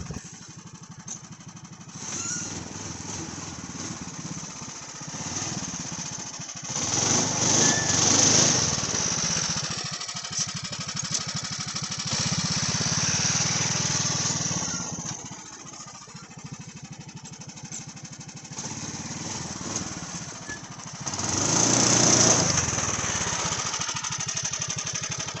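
A Polaris Sportsman 420 ATV on studded tires runs across ice outdoors, its engine rising and falling through several revving surges and steadier stretches, close and fairly loud, with no talking.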